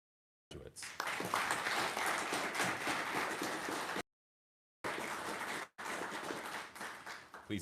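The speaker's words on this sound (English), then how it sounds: "Please join me in one more round of applause." An audience applauds at a military physician assistant program graduation ceremony, steady dense clapping from many hands, broken by two short cuts to silence before resuming.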